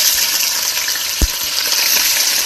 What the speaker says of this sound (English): I'm going to fry these marinated fish pieces in a beautiful wok like this